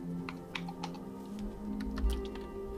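Cheat codes typed on a computer keyboard, a quick uneven run of light key clicks heard close over a faint background hum.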